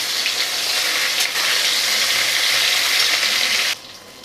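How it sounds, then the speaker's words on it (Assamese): Katla fish pieces fry in hot oil in a pan, giving a loud, steady sizzle that cuts off abruptly near the end, with no talking. "মাছখিনি এটা চাইড হৈ গৈছে, এতিয়া মই উল্টাই দি দিছোঁ।"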